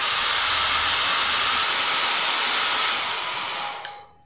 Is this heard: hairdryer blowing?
yes